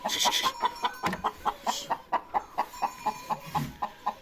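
A chicken clucks in a rapid, regular series of short, sharp notes, fairly close, with a few louder squawks at the start, on a farm with goats and sheep.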